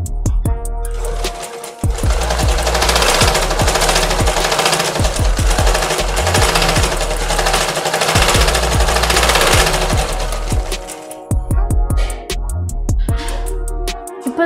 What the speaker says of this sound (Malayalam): ഇനി നമ്മളിത് മാർക്ക് ചെയ്തിട്ടുള്ള ഈ ലൈനിൽ കൂടെ നമ്മൾ സ്റ്റിച്ച് ചെയ്തെടുക്കാൻ പോവാണ്